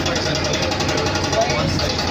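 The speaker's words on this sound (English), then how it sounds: "That is actually a power tool, so I have to speak loudly." A loud, steady mechanical buzz with rapid pulsing, like a power tool running continuously close by inside an airport terminal, filling the whole short stretch.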